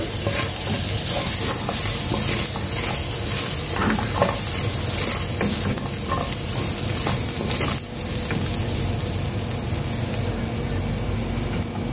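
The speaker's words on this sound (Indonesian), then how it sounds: "Saya akan tumis dia sehingga naik bau" Garlic sizzles and fries loudly in a hot wok, with steady crackling, frequent stirring clatter and a brief watery splash near the end; no talking.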